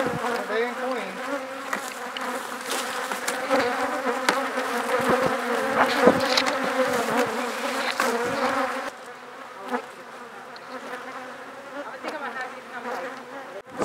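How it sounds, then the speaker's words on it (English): A dense swarm of bees drones and buzzes close by around two beehives during a removal job, a loud, steady hum with individual insects zipping past, thinning out toward the end. "There's two beehives out here."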